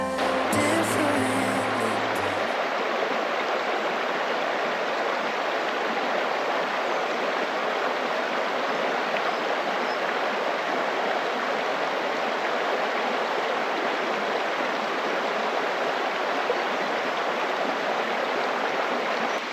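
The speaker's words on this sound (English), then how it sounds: "I stopped by this pretty little stream river." A small, pretty stream flows with a steady, dense rush of water that holds constant and fairly loud throughout, after a brief moment of handling noise at the start.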